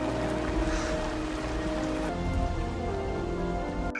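Steady rain falls and patters on a boat at sea, a dense continuous hiss of drops, fairly close, with no voices.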